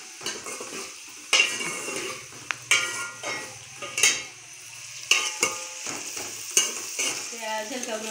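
Onions sizzle in a hot pan on a home stove while a spoon stirs and scrapes against the metal in repeated sharp clatters over a steady frying hiss.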